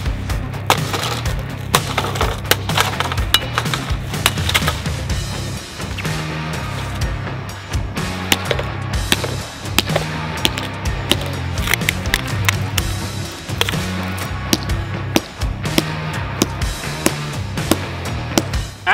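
A new iMac computer is smashed and stomped, giving a long run of dense, loud cracking, splintering and crunching impacts that go on without pause and with no talk.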